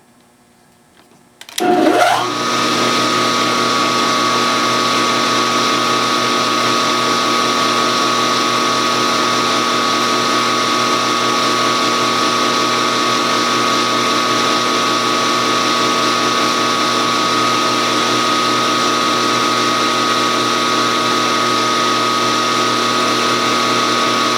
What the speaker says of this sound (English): we're going to come down and we're going to center drill that